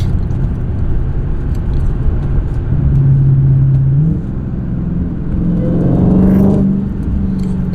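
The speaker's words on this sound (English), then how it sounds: "I think y'all need to hear a whine this morning." Dodge Hellcat with a supercharged engine revs while driving in light traffic, a loud steady rumble with a rising whine swelling twice, close and alone without talk.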